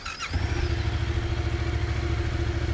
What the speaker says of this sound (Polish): motocykl jest odpalony